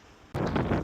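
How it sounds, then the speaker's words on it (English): Wind gusts suddenly buffet the microphone outdoors where car windows are being tinted, a loud broadband roar starting abruptly after a quiet moment and continuing to the end. "Suppose you can hear the wind in the background."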